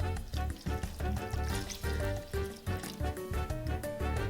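Liquid pours into a pan of ropa vieja, a faint, choppy splashing and sizzling that comes and goes in short bursts over several seconds, with no talking.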